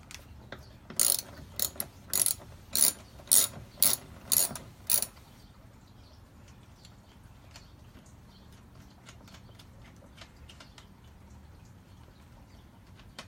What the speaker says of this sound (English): So now I'm just going to use my 10mm socket wrench.